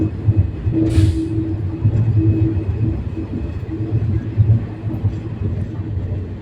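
A passenger train departing Chennai for Kolkata rumbles steadily with rhythmic wheel clatter on the rails, heard up close and continuous throughout, with a brief higher hiss near the start and no talking.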